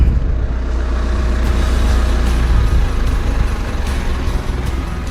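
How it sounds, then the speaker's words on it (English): Steady loud air hiss escapes from 4WD tyres as their pressure is let down for a beach track, a continuous close rushing noise with low engine-like rumble beneath and no speech. "So here we are again, letting down the tyre pressures."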